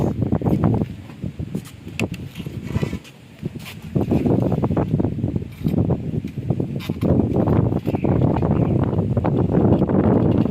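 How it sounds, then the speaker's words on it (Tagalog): Strong wind buffets the microphone at an outdoor monopole tower site, producing loud, continuous rumbling gusts with rustling and brief lulls throughout. "Medyo guys, mahangin, napakalakas ng hangin."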